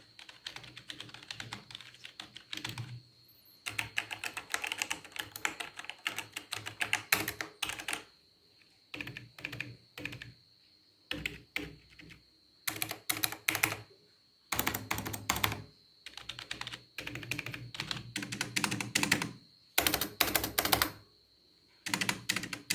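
Typing on a Logitech MK235 wireless keyboard, with quiet bursts of keystrokes broken by short pauses. The clicks are soft, close and steady, and no one speaks.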